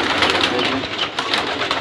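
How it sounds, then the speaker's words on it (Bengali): Pigeons coo in a house loft where they nest with their chicks, the soft repeated calls close and steady over a constant rustling hiss. "মোটামুটি ভালোই কয়টা কবুতর রয়েছে, বাচ্চা দিয়েছে।"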